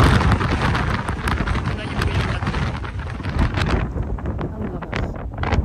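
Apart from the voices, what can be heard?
strong wind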